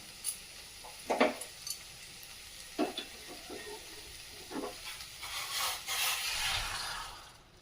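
Cauliflower sizzles in a pan as a few stirring clanks sound, then hot water is added and the hiss swells steadily louder near the end, close up with no voices.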